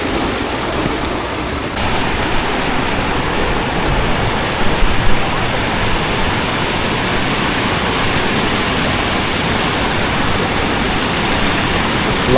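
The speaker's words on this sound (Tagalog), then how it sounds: "Lakas talaga ng tubig." A powerful waterfall roars as a dense, constant rush of water, loud and unbroken throughout.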